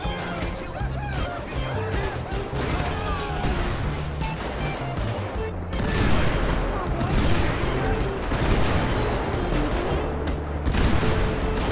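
Dense, continuous bursts of gunfire and booming explosions from a rampage in GTA V in VR fill the mix, loud and chaotic throughout, with a brief shift in intensity midway.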